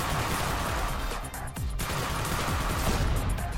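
Apocalypse Cannon missile fire in the space roguelike shooter Starward Rogue, a dense, loud barrage of blasts and crashing impacts that barely lets up across the whole stretch.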